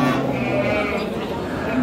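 A sheep bleats in a short, wavering cry, fairly close, with a second bleat trailing at the end against light background noise of a livestock market in Khujand.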